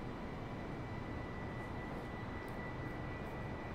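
Steady jet engine drone of an Airbus airliner in Microsoft Flight Simulator on Xbox Series X, a continuous, even, broadband roar that holds unchanged throughout with no voices.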